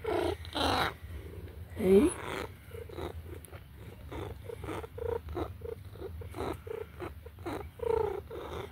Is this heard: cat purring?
yes